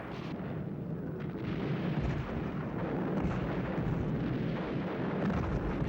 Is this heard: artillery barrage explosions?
yes